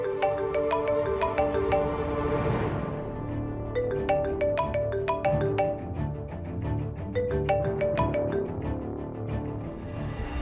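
A mobile phone ringtone plays loud and alone as a bright, repeating melodic chime in quick rhythmic bursts that runs continuously throughout.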